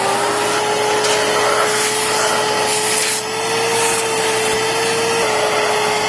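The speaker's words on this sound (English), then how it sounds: "I'm gonna just suck some of this mess out of here." An Oreck XL Commercial vacuum cleaner runs continuously at close range with a steady whine, with scraping and rattling bursts as debris is sucked in to clear a clog.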